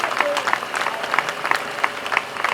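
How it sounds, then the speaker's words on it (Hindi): Clapping from a crowd at an outdoor fair prize-giving for a first-place winner, a loose patter of hands with rhythmic, uneven bursts, moderately close, with voices mixed in. "जरा जोरदार तालियां"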